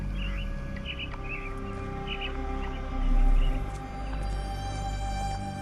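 Caged mynah birds in the game Sherlock Holmes: The Awakened give repeated bright chirps and short calls over a low, steady ambient hum, with a brief swell of rumble midway.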